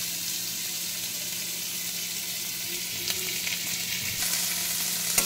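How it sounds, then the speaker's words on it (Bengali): Chopped onion sizzles in hot oil and is stirred while cooking for a puti fish dish: a steady, close, loud crackling hiss with occasional scraping stirs and no talk. "তেলটা গরম হয়ে গেল, ওর মধ্যে পেঁয়াজটা দিয়ে দেবো"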